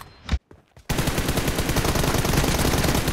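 Sustained rapid automatic gunfire from the video game PUBG, loud and dense after a few brief isolated shots, with no talking.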